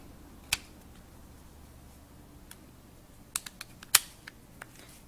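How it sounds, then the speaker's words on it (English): Hard plastic Apple case being fitted onto an iPhone 4, heard as a few sharp, close clicks and snaps scattered through an otherwise quiet stretch, the loudest snap near the end. "the case snaps snugly around the device"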